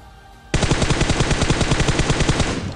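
AKM assault rifle firing in a battle royale shooter game, a sudden loud sustained burst of rapid automatic gunfire that starts after a brief quiet moment and keeps a steady, fast, close rhythm with no talk.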